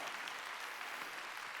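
A church congregation applauding during a Sunday sermon, a dense, steady patter of many hands clapping, faint and distant in a large room.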